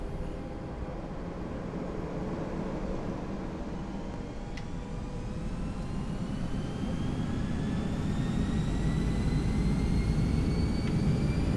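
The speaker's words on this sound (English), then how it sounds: "cleared for takeoff" Airliner engines roar at takeoff power in the X-Plane 11 flight simulator, a steady broadband rumble that builds slowly, with a thin rising whine over it.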